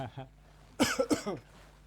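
A single short cough bursts out near the microphone at a Slovenian album presentation in Celje, a couple of quick harsh bursts between quiet moments.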